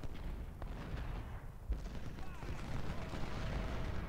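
A musket volley in the Ultimate General: Civil War battlefield game sounds as a rumbling, crackling roar of massed gunfire. It holds steady over a low, dense battle din, with one sharper report partway through.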